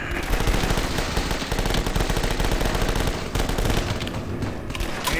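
Rapid, continuous gunfire in the zombie-defense video game The Last Stand 2, a loud, dense stream of overlapping shots and bursts with no pause throughout.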